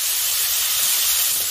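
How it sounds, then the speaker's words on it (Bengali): Peeled prawns, heads and shells removed, fry in hot oil in a pan, giving a continuous loud sizzling hiss with no pauses. "চিংড়ি মাছটা খুব বেশি ভাজা করব না"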